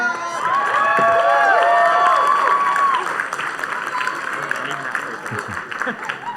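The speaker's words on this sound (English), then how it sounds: "can we get a round of applause for Raleigh?" An audience at a dance competition erupts in applause, cheers and whoops, a loud crowd roar with shouting voices and clapping that peaks early and slowly settles, with music starting beneath.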